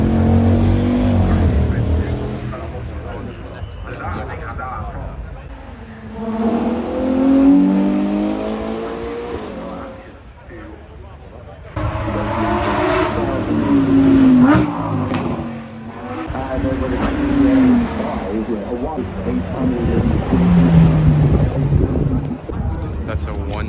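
HWA 190E Evo carbon-fiber resto mod with a 450-horsepower engine accelerating hard at Goodwood, repeated rising engine sweeps through the gears, loud and close, with wind buffeting and someone talking between runs.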